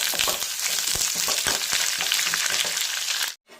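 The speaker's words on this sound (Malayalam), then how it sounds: "അതിലേക്ക് വറ്റൽമുളകും കറിവേപ്പിലയും കൂടി ചേർത്ത് കടുക് താളിച്ചെടുക്കാം." Mustard seeds, dried red chillies and curry leaves sizzle in hot oil for a Kerala curry tempering, a loud, dense crackle with popping bursts, close up, cutting off abruptly at the end.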